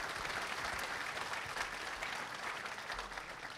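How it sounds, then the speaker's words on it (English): An audience claps for panel speakers at a food and drink event, steady dense applause from a crowd at moderate distance, sustained throughout with no voices standing out. "Please give our speakers one more round of applause."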